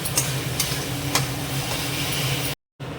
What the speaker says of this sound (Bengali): এবার আমি এখানে যে টমেটো কুচিগুলো ছিল ওগুলোও দিয়ে দেব। দিয়ে এবার আবার আমি নেড়ে নেব।